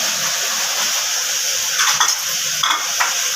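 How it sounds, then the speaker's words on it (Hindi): Marinated chicken malai boti shallow-fries in a pan with a constant bright sizzle, joined near the end by a few sharper spatters and utensil clinks. "हाँ अभी चिकन फ्राई हो रहा है जी"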